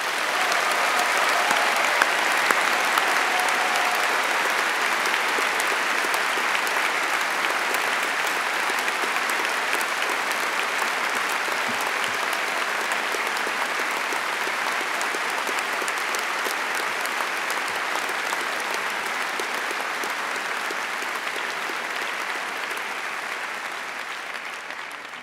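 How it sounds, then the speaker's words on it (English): Big, steady round of applause from a graduation ceremony crowd at an engineering faculty commemoration day, loud and even throughout, slowly easing near the end. "So please join in giving them a huge round of applause."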